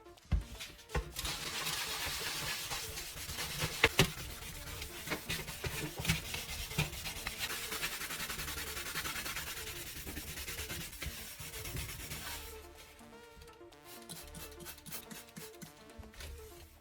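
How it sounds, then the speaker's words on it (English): Damp sponge scrubbing the baked-on residue off a metal pan bottom, a steady abrasive rubbing kept up for about twelve seconds, then gives way to shorter, lighter strokes. "you pick up the pan again and start scrubbing the bottom with a damp sponge"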